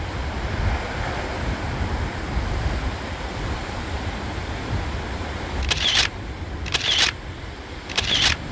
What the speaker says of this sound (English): Massive waves.